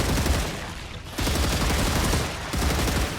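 Rapid bursts of automatic gunfire in the sci-fi shooter Star Rupture, loud and dense, firing in two long volleys with a brief lull between them.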